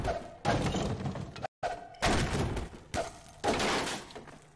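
A crowbar strikes objects in a video game with repeated heavy thuds and thumps. The blows come in uneven bursts with a brief silent gap between them.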